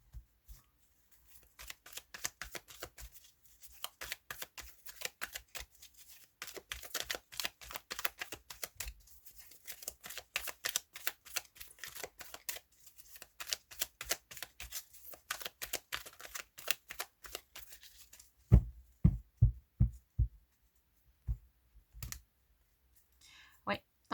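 Tarot cards are shuffled for a reading, a close, dense run of rapid riffling clicks in bursts, ending with a few separate louder taps as cards are set down.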